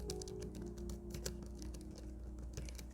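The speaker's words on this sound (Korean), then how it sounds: "지금은 의도적으로 조용히 치려고 노력하고 있습니다" Deliberately quiet typing on a Lenovo P11 keyboard cover, soft muted key taps in a fairly steady, close patter that sits a little lower and calmer than hard typing, with no talking.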